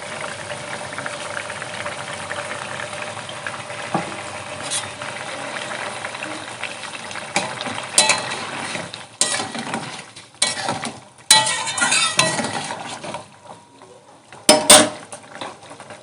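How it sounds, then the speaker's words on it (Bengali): A fish curry bubbling in a pan, a soft steady simmer broken by intermittent clatters and scrapes of utensils against the pan, growing busier toward the end. "ঝোল ফুটছে"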